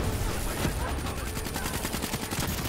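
Rapid gunfire from Black Ops 3 campaign combat, with dense bursts of automatic shots rattling in a quick, steady rhythm. The shooting is loud and close and continues without a break.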